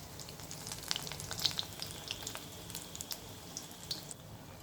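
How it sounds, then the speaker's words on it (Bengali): Lentil fritters (bora) sizzle in oil, pressed down as they fry, giving a soft continuous hiss with scattered sharp crackles and pops, close and fairly quiet, without speech. "এইভাবেই ভাজতে হবে বড়াগুলোকে"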